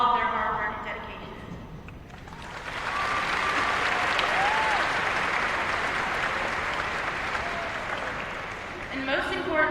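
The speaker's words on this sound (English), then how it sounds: "our last chance to give our teachers and staff a round of applause" A graduation crowd gives teachers and staff a big round of applause, a broad swelling roar of many hands that rises after a spoken introduction and carries on loudly, with a voice returning near the end.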